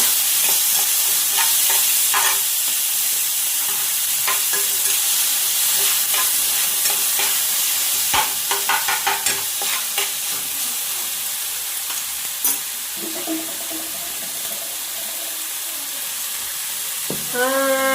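Onion, tomato and garlic fry with a steady loud sizzle in a pan while a utensil stirs them, scraping and clicking in irregular bursts, with no talk.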